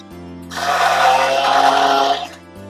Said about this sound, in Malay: Okay, last sekali halia, lengkuas, serai kita blender.